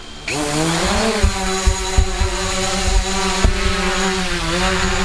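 Drone propellers spin up abruptly into a loud, steady high-pitched buzz that continues with slight pitch shifts and occasional knocks.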